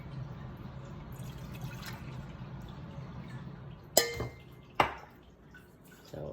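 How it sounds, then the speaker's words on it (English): Milk is poured into a metal bowl in a kitchen, a soft steady liquid trickle followed by two sharp metallic clinks as the bowl is handled, close and quiet with no talking. "I have a metal bowl, and I'm going to pour the milk into the bowl."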